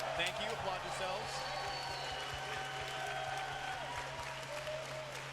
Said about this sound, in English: So, and I also want to applaud you guys for raising such a good cheer for the entire play we saw today.